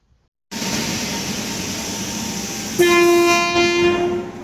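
A passenger train at Chennai Central railway station rumbles steadily, then a loud sustained horn blast sounds over the running noise, close by, with no voices.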